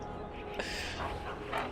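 A dog barks and yips in the video game Dragon Age: Origins, a few short bursts that rise over steady in-game background sound.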